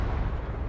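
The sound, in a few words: Katyusha rocket explosion in a video game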